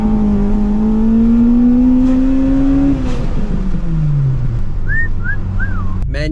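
A Honda EP3 Civic revs loudly up and down, its engine note climbing steadily then dropping away as it drives on, with a few faint tire chirps or whistles near the end.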